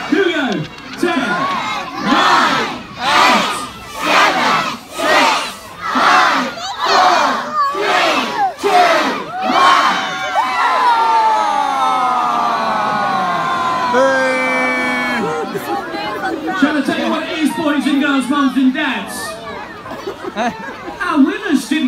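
A large crowd at the Enfield Christmas lights switch-on screams out a countdown, loud rhythmic group shouts on each number, then builds into sustained cheering and whooping, with an amplified voice over the crowd near the end.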